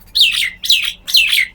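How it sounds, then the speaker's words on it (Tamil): Small bird in a terrace garden gives three loud, close chirping calls in quick succession, each a bright sweeping note, with no other sound around them. "குருவி எப்படி கத்துது போகிறா அழகா."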